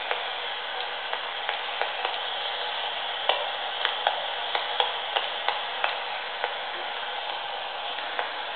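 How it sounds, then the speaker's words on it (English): A children's book light's on-off switch throws radio interference into a receiver: a steady band of static hiss punctuated by a dozen or so sharp, irregularly spaced clicks, with no talking. "So you can hear that the on-off switch actually creates radio waves."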